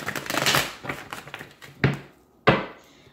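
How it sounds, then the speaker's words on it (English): Tarot cards riffle and flutter in a quick shuffle, followed by two sharp taps as the deck is squared, close and alone. "One last shuffle."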